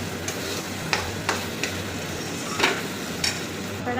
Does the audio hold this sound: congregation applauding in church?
no